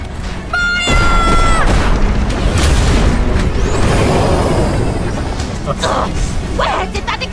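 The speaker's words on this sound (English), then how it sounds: "Where did that explosion come from?" Cannon fire in an animated series bursts into a heavy booming explosion that rumbles and crashes on, loud and close, mixed with shouting voices and music.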